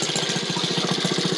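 A 1948 Maytag washing machine's small engine runs steadily up close, a rapid, even putt-putt firing rhythm under a loud, rattling mechanical clatter, with no talk.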